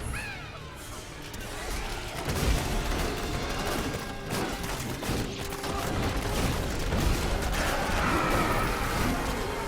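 Grenades bounce and burst in rapid succession during video game combat, producing a dense, continuous clatter of small explosions and crashes with no pauses.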